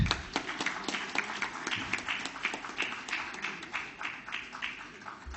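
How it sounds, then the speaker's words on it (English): Moderately quiet applause from an audience at a safety convention award ceremony, a scattered run of claps forming a loose patter that tapers off toward the end. "Ladies and gentlemen, a round of applause for GE T&D India Limited."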